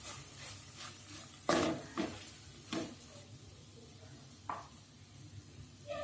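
Tomato gets mixed into cooked rice in a pan, with a few sharp spoon knocks against the metal, soft stirring scrapes and a faint sizzle between them, close and quiet.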